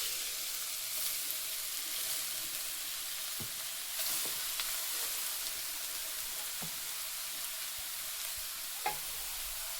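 Grated carrots fry in ghee in a wok, a steady soft sizzle with a few sharp scraping stirs of a spoon against the pan.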